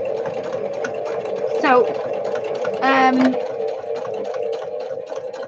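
A domestic sewing machine runs in short bursts, stitching fabric with a steady mechanical hum and rapid needle chatter, while someone talks over it close by.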